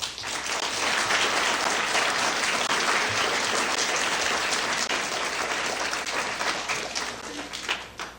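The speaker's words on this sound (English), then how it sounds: "I think they deserve a round of applause." An audience at a Southeast Asian scholars event breaks into long, dense applause for committee members, many hands clapping together at steady strength before thinning out near the end.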